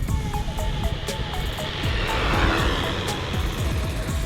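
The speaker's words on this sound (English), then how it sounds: "Full throttle all the way down." A Hosim RC truggy runs at full throttle on a 2S battery, its electric motor giving a loud, high buzzing whine that swells as it passes close, then settles into a steady drone.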